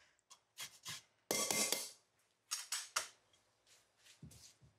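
A whole lemon is zested on a fine grater for lemon squares: close, dry rasping strokes in short bursts of varying length, separated by brief pauses.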